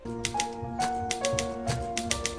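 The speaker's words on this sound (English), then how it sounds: "This typewriting sound" Rapid typewriter keystrokes clatter in uneven bursts, with sharp metallic strikes over a faint steady hum, close and moderately loud.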